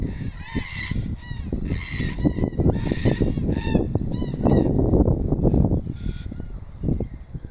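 Red-tailed black cockatoos give harsh, repeated honking calls in a loud, overlapping chorus, close by and steady throughout with no talking, in the Australian bush.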